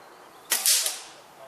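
A Rat Works Ranger air rifle with a reducer fires one sharp, crisp shot outdoors in the field, followed by a short fading tail over quiet background.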